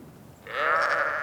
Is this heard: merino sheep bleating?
yes